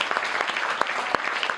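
Audience applause for children at a theatre performance, a dense steady patter of many hands clapping with a few sharper claps standing out, fairly loud throughout.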